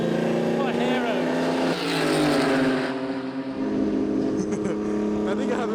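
A historic Formula 1 race car roars past under a bridge at Silverstone, its engine note rising and falling in pitch as it passes, while someone talks over it.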